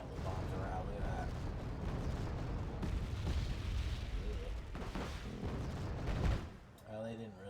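Bombs dropped in the real-time strategy game Wargame Red Dragon explode in a dense rumbling barrage of booms, with a heavy blast near the end that fades into quieter game noise.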